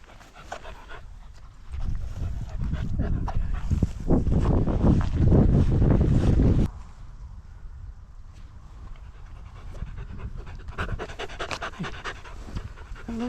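Several dogs on a group dog walk pant heavily and steadily close to the microphone, with wind rumble beneath, the panting swelling loudest in the middle before easing to quieter breathing.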